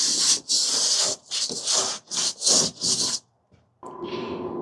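Cloth wiping hard over an RV wall with rubbing alcohol during paint prep, several brisk hissing rub strokes in a rhythmic run, a short pause, then a softer steady rub, close up.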